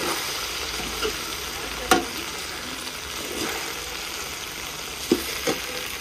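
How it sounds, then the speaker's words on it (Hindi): Okra sizzles steadily in a pan, a soft continuous frying hiss broken by a few sharp stirring clinks and scrapes, with no one speaking. "तड़कार लग रहा है भिंडियों का।"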